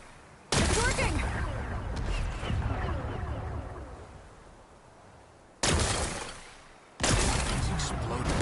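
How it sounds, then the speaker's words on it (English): Rocks are blasted apart in the video game Horizon Forbidden West: three loud, abrupt explosive bursts with crackling, shattering debris tails, the first long and fading over several seconds, the later two sharp and close together. "Gotta blast away some rocks, so I can expose the power cell."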